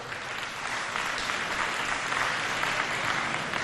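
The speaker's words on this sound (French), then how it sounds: "Nous appelons en premier lieu madame Asma Gassim, que je demande qu'on applaudisse très fort." Sustained applause from an audience at an official platform launch ceremony, a dense even patter of many hands clapping steadily throughout without a break.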